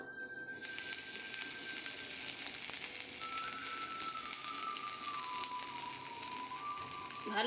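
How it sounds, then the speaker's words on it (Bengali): Ginger frying in hot oil in a pan, a soft steady sizzle and crackle that runs continuously at low volume, with a faint tonal hum in the background. "আদাটা ভালো করে আপনারা ভেজে নেবে"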